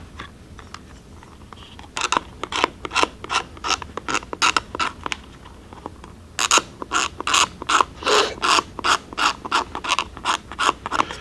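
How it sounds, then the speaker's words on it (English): A blade scrapes a piece of plastic card down into a tapered wedge, giving sharp, rhythmic rasping strokes up close, first spaced apart and then coming faster in a steady series. "So all I'm doing is scraping away and making a tapered wedge out of this piece of plastic card"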